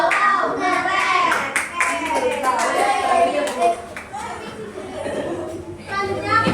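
A classroom group claps and cheers for the first group, with children's voices shouting and chattering over continuous applause throughout.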